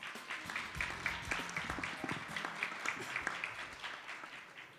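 Audience applause welcomes health correspondent Kelland, a Reuters reporter, at a biotechnology summit session, with steady, moderately loud clapping from a seated crowd that runs evenly throughout without voices.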